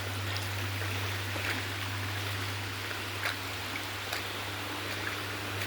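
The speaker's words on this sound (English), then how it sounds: "That's the waterfall there. This is a nice steady stream on top of it." Water rushes steadily from a waterfall and a stream on top of it, a constant broadband hiss heard from close by with a low hum underneath and a few faint knocks, no voices.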